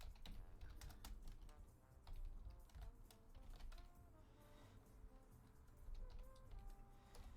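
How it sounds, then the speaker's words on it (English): Keystrokes from a computer keyboard come over a remote voice channel during an online game match, a steady patter of clicks under a continuous music-like background, without pause across the whole stretch. "we can hear like him typing on his keyboard"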